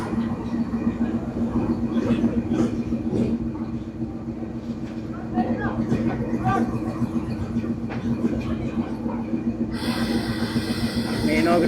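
Khushal Khan Khattak passenger train arriving at a station in Pakistan, heard as a steady low rumble of wheels and carriages with faint clatter, close and continuous, while voices murmur in the background and a brighter hiss rises near the end.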